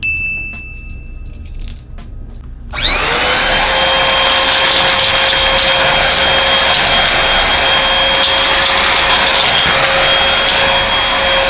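A cheap upright vacuum cleaner switches on after a few faint clinks, its motor whirring up into a loud, steady high-pitched drone that runs without a break until the end.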